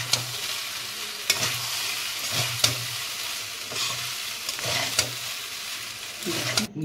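Garlic and black pepper fry in a pan with a continuous sizzle, broken by repeated scraping clinks as a utensil stirs them, close and fairly quiet with no talking.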